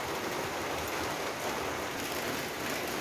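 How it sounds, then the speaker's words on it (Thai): Steady rain falls at a rural Thai home kitchen, a constant soft wash of drops with no voices. "ฝนตกนะครับ"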